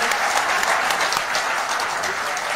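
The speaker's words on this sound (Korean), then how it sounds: "다시 한번 박수 부탁드립니다" Lecture audience giving steady, continuous applause, a dense, full sound of many hands clapping throughout with no talk.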